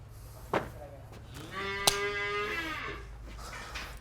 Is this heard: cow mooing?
yes